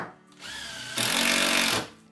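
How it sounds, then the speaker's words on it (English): A power drill drives screws into a wall board, first whirring up at a steady pitch, then rising into a louder, harsher grind as the screw bites. It ends in one short burst, heard close and alone. "Place it into position with some packs and drive your screws in."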